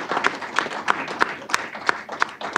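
Scattered clapping from the audience at a school district board meeting, fairly faint and sparse with distinct individual claps rather than a full ovation, brief.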